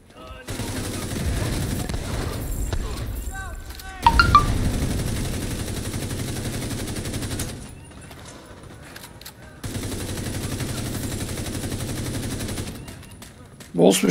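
Rapid pistol and automatic gunfire crackles through a video game firefight, bursts of shots separated by brief lulls, with players talking over the action.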